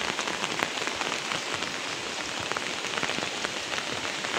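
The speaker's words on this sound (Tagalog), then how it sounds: "Ang lakas ng ulan na may kasamang malakas na hangin." Heavy rain driven by strong wind pours down on a garden as a steady, dense, loud hiss of drops on surfaces, continuous throughout with no talk.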